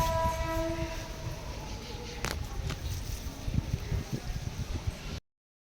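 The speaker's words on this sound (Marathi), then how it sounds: "पाचची ट्रेन आली बघा ट्रेन वाजली तर इतका असं ट्रेनचा धडधड धडधड आवाज येते" A train arrives and rumbles past with a heavy, continuous rolling drone and wheel clatter. Early on a horn sounds with sustained tonal blasts, and the clip ends abruptly.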